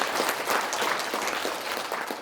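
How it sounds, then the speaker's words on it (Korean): A room of people applauding at a rally in a National Assembly conference hall, dense continuous clapping that holds steady and slowly tapers near the end. "박수 한번 주십시오"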